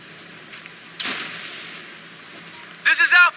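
Gunfire in the military shooter Operation Flashpoint: Red River, with a sharp shot, a rolling blast and a lingering noisy tail, followed by a loud radio-style voice.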